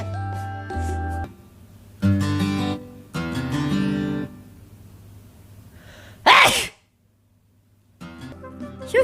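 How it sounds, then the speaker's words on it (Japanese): One sharp, loud sneeze bursts out near the end, close to the mic, after stretches of voiced sound and a short silence. "なんか今日くしゃみ多いね。"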